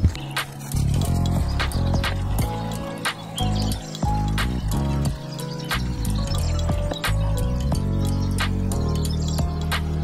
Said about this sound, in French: je fais le plein d'eau